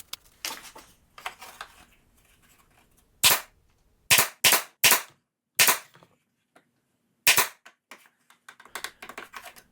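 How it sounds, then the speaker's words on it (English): A pin nailer fires on the roof sheathing of a model ranch house, giving sharp, loud, separate snaps in an uneven series. Softer rustling and handling noises come between the shots. "It would probably help to have some pins in the gun."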